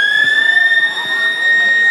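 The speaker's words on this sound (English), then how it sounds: "That's the siren for quarter." A loud, steady electronic siren tone signalling the end of a quarter at a country football match sounds continuously throughout, with crowd noise murmuring faintly beneath it.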